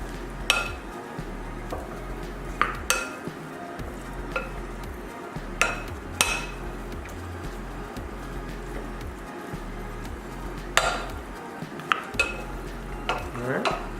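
Potato and corn salad with charred poblano and lime being stirred in a bowl, giving repeated soft scraping and clinking strokes of a utensil, with a few sharper clacks against the bowl rim, close by and without talk.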